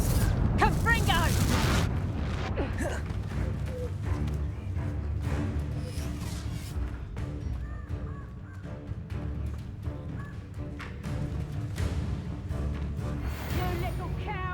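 A Confringo explosive spell bursts in the Hogwarts Legacy video game, a loud booming blast amid a busy mix of combat effects, crow-like caws and game audio.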